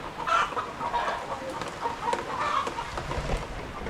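Chickens cluck steadily and fairly close on a rainy early morning in the Philippine countryside, several birds overlapping in a continuous chatter over soft background noise.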